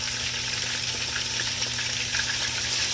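Eleven pieces of chicken searing together in a crowded pot for brown stew chicken, a loud, continuous close-up hiss and crackle of hot fat that holds steady throughout, with no voices.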